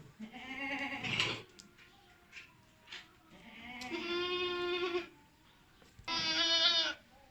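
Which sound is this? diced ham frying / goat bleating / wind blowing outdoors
goat bleating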